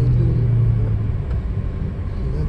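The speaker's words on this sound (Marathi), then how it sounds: "ही बघा गाडी आली." A car pulls up nearby on arrival with a low engine rumble that stays steady and close, then eases slightly, with no voices.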